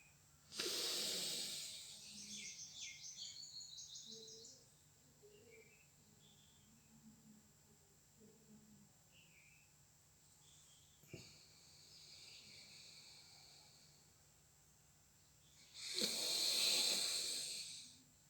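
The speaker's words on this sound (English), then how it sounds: "This is the ratio of breathing in and breathing out." Slow, audible breaths drawn in and let out in a long paced ratio, a loud airy inhale at the start, a long quiet stretch of held and released air, then another strong breath near the end, with no talking.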